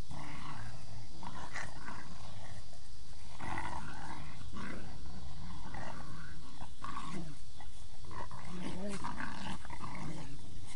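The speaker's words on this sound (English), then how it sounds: "There's all my AKC dogs right there." Several AKC-registered dogs playing rough outdoors, with growls and snarls breaking out in short, repeated bursts over about eleven seconds at close range, the scuffling steady under the noise.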